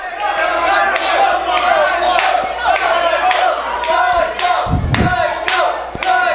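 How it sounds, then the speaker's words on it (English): Wrestling arena crowd cheering loudly and continuously, a dense roar of many voices with chant-like pulses, plus a heavy thud near the end. "The crowd now cheering for Johnny Psycho."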